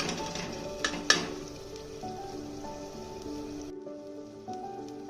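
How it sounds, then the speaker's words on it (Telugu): Tomatoes cook down in a pan with a soft, steady sizzle and a few sharp clinks of stirring near the start, while faint tonal music plays underneath throughout. "ఇలా టమోటా బాగా మగ్గే వరకు మగ్గించుకోవాలి"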